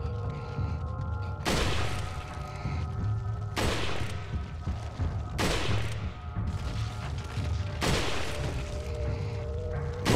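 Gunfire in the video game Resident Evil 4: a few heavy, booming shots spaced several seconds apart, each cracking sharply over a continuous rumbling game soundscape.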